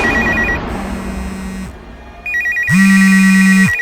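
A phone rings in a tense night scene: two bursts of electronic ringtone trill with a pause between them, loud and close, with faint background noise and no voices.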